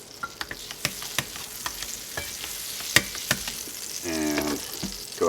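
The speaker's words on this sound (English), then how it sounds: "So you just want a little bit of butter in your pan." Butter frying in a pan before scrambled eggs, a steady close sizzle with scattered sharp pops and clicks, plus a brief scraping stir near the end.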